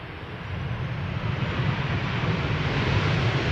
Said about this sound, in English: Next to land is KLM flight 1030 arriving from Persenchester